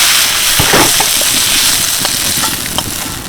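Chicken marinated in salt and turmeric drops into hot oil seasoned with Kashmiri chilli powder, raising a loud, steady sizzle with a few sharper crackles and pops throughout.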